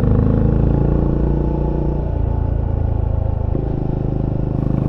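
A Benelli Imperiale 400 motorcycle from 2021 riding along a curvy road, its steady engine drone and rumble continuous and close throughout, with a slight change in engine note midway as the rider shifts.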